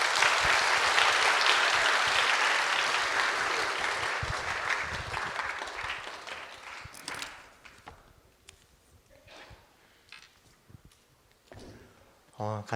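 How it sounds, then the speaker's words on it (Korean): Loud, dense applause from a church congregation at a Sunday evening doctrine class, honoring a professor; the clapping fills the first seven seconds, then thins and dies away into scattered noises. "교수님께 다시 한번 큰 박수 부탁드리겠습니다."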